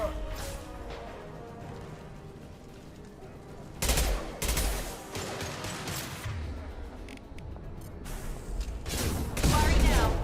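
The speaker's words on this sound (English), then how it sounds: "Firing an impact shot." Weapons fire and a heavy impact shot echo through a Mass Effect 2 battle, scattered gunshots and loud crashing bursts with a big hit near the end, with voices talking over parts of it.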